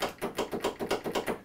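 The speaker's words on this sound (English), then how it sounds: "Well, the solenoid is clicking," A faulty lawn mower solenoid clicking, about eight quick, evenly spaced taps close by with no talking.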